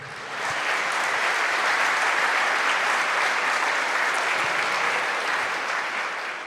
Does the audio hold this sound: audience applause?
yes